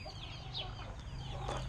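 Brahma roosters cluck softly at close range, with low throaty clucks and a few short squawks over a steady low background hum.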